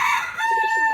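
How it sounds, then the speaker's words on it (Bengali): A rooster crows close by, a loud, strained call that ends on a long held tone. "আমার মোরগটা যা ডাকে না"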